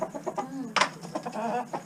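A backyard chicken clucks in short, soft repeated calls with one sharper squawk in the middle, close by and fairly quiet.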